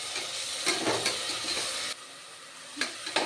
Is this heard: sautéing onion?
yes